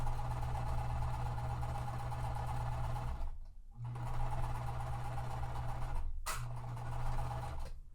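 A sewing machine stitching quilt seams runs in a steady, close whirring drone, pausing briefly twice before starting up again.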